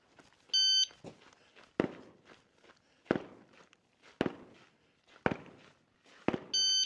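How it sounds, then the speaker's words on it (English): An electronic shot timer gives a loud steady beep at the start and end of a rifle drill string, with sharp gunshots ringing out at roughly one-second intervals in between. "You're just gonna hear the second beep while you're shooting, and you'll get to finish your string."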